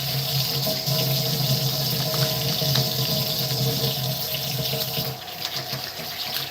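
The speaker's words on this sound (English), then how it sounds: "I'm washing my hands again." Hands washed under a running kitchen tap, a steady close stream of water splashing into a sink that eases slightly near the end, with no talk.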